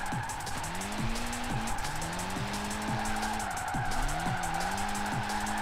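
Vauxhall Corsa drifting in Forza Horizon 4, with a loud continuous tire squeal that rises and falls in repeated sweeps over a steady engine roar and no voices.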